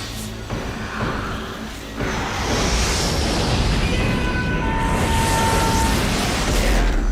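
A film explosion from Mortal Kombat Annihilation opens with a sharp blast, then gives way to a sustained loud roaring rumble with hissing debris that fills the whole stretch.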